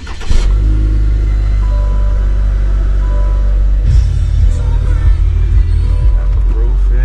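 A Cadillac CT4-V at an auto auction starts up and revs, its engine rumbling loudly and steadily close by with a surge partway through, while people talk nearby.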